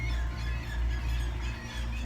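Seabirds squawk and squeal in a loose, overlapping chorus around a rusted shipwreck hull, set against a constant low rumble of wind or surf. The calls carry at moderate distance.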